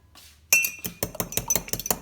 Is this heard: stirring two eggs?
yes